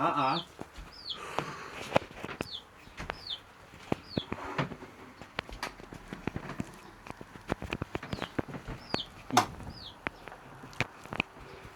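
Chickens and a chick on a muddy village farm in Malaysia, with repeated short chirps and clucks scattered through, some near and some faint, along with scattered knocks and clatters.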